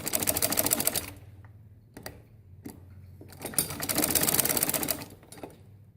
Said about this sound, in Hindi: मैंने इसके एज पर सिलाई लगाई है